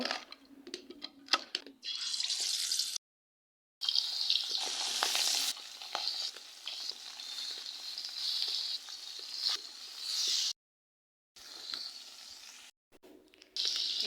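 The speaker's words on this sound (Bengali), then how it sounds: "এই জাটকা মাছ কিন্তু বেশি ভাজলে, ভাজা তরকারি রান্না করলে বেশি ভালো লাগে না, তো তার জন্য আমি হালকা ভাজা দিব।" Jatka fish (young hilsa) shallow-frying lightly in oil, a steady close crackling sizzle with brief gaps of silence and soft stirring noises, no talking.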